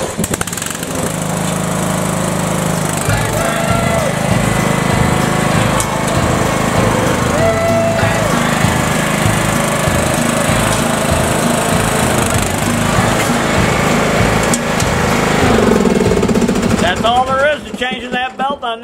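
Craftsman center-shift riding lawn mower engine running steadily and loud during a test drive after a ground drive belt install, a constant drone that cuts out near the end.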